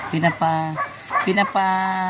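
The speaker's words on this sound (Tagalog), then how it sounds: "kalma lang muna namin yung mga aso" Dogs bark and yelp in short bursts close by, with a pause between two clusters of calls.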